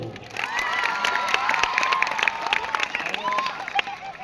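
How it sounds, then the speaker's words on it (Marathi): Applause from a crowd of schoolchildren at a school gathering, with scattered shouts and cheers rising over the clapping, loud and continuous throughout. "आपल्या वर्तक शाळेच्या मुलांचा टाळ्यांचा गडगडाट होतो"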